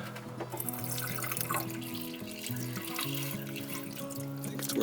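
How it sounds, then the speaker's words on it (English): Water drains from a sink in a camper van conversion down into a gray water tank below, a steady running, trickling wash that continues throughout at close range with no talking. "So we got the gray water tank down there, and this should just drain right in"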